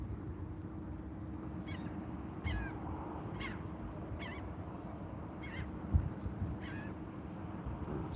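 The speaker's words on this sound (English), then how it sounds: "Seagulls." Seagulls give a series of short, faint squawking calls spaced a second or so apart, carried over a steady low outdoor rumble.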